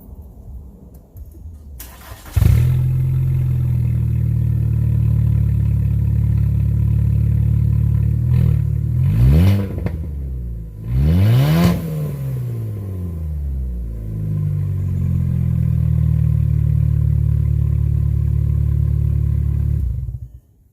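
A car engine with a newly added muffler cranks and fires, settling into a steady, deep idle, then is revved twice in quick rising-and-falling bursts before idling on and shutting off, loud and close.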